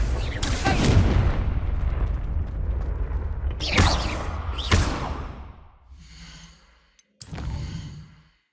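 Confringo fire spell blasts in the Hogwarts Legacy video game: loud booming bursts with sharp cracks over a dense rumbling din, a brief lull of faint tones, then another sudden blast.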